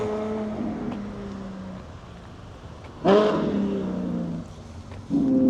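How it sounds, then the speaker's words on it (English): A Ferrari engine revs in the background at a classic-car Sunday drive. A steady droning engine tone runs throughout, with two sharp, louder revving bursts near the middle and the end. "Ferrari making some noise in the background there"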